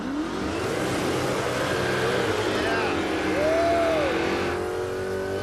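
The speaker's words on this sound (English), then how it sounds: "Okay, that's a burnout right there." A muscle car doing a burnout at a racing event, loud sustained engine roar with rising and falling revs and tire-squeal tones, close and continuous.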